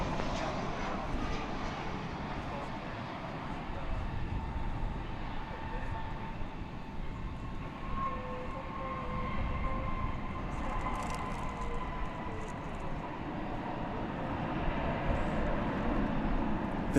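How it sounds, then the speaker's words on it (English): An American Airlines Boeing 737-800 arriving at Dallas Fort Worth airport from San Antonio, its broad jet engine roar rumbling steadily at a distance and swelling slightly toward the end, with no talking over it. "That American Airlines Flight 2438 came in from San Antonio, Texas. 737-800."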